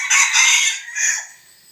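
A young Thai gamecock, a fawn-colored crossbreed, lets out a single loud crow close by. It is a strained, bright call with a brief break before a shorter final note, and no talking.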